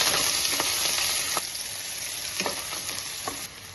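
Onions with green chillies frying in hot oil for coconut milk rice, a steady crackling sizzle with a few stirring scrapes, close and continuous with no talk.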